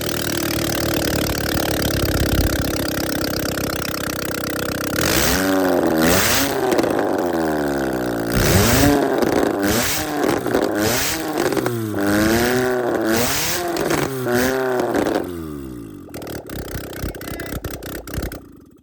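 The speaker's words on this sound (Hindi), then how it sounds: "अब गाड़ी के इंजन को एक प्रॉपर तरीके से स्टार्ट करके देख सकते हैं आप आवाज।" A Chevrolet Spark engine with a detonation or knocking problem starts and runs, revving up and down in repeated rising and falling sweeps, loud and close, then dropping back toward idle near the end.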